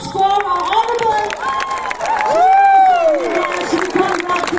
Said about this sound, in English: let's give a big round of applause for our Honorable